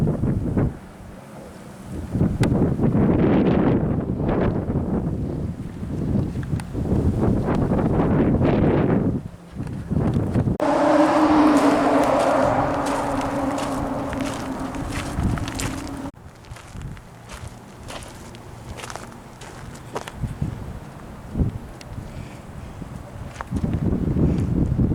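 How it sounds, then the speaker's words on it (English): Strong gusting wind buffets the microphone beside Lake Oroville where ski boats run on rough water, a steady loud roar of wind noise with a clear tonal engine drone midway through. "It's windy. It's real windy."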